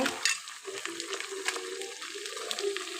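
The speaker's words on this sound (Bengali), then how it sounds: "আমি এখন এই মাংসগুলো হালকা করে ভেজে নিব" Chicken pieces sizzling in a pan with fried onion on an electric heater, a soft steady crackle with occasional stirring scrapes, close and fairly quiet.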